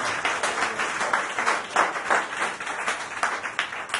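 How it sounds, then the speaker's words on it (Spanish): A church congregation claps steadily for several seconds during a worship service, a dense even patter of many hands. "Dale un aplauso al Señor, aleluya."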